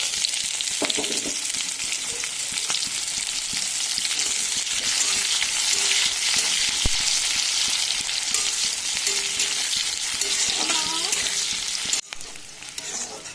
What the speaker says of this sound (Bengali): পেঁয়াজগুলো ভালো মতন ভাজা হয়ে গেছে।